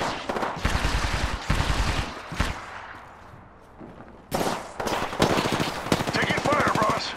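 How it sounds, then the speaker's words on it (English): Gunfire in the video game Apex Legends, loud rapid automatic bursts in several volleys separated by a quieter lull, with dense rattling fire returning toward the end. "Taking fire, boss."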